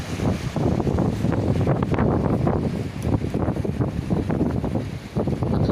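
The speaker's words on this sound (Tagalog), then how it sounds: "Lakas ng hangin." Strong wind buffeting the microphone on an open boat trip out on the water, a constant loud low roar and rumble with gusty swells and no clear talk.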